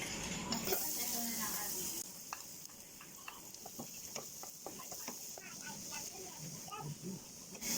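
Garlic sautés in melted butter in a pan, a quiet steady sizzle with light stirring clicks and scrapes throughout, close but faint, with a voice speaking briefly near the start.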